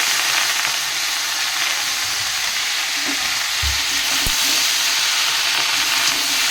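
Potato and pumpkin fry in a pan with turmeric and salt while Malabar spinach goes in, giving a loud continuous sizzle with a few soft clunks of the leaves and utensil, no voices.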